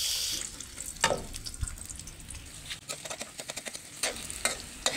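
Onions hit hot frying oil and sizzle quietly, broken by repeated scraping and tapping as a utensil stirs them in the pan, for ampalaya with egg and corned beef.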